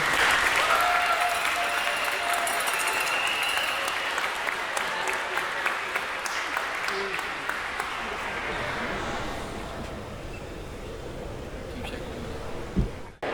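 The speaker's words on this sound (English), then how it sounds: "let's give these seniors a round of applause for their contributions to Bryan swimming" Crowd applause honoring senior swimmers at a Bryan High School swim meet against Bowling Green, sustained echoing clapping in a natatorium that gradually thins out over thirteen seconds, with a brief thump near the end.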